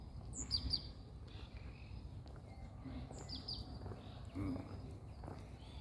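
Many birds, including pigeons, chirp and tweet intermittently in short bursts in woodland trees, fairly faint against a steady outdoor background with some soft rustling.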